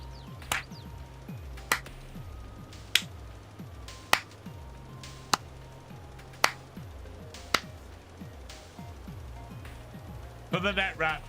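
Slow, evenly spaced single claps, about nine crisp hand claps roughly a second apart, cut sharply through a steady low mechanical hum from a farming game, ending in a quick burst of faster claps.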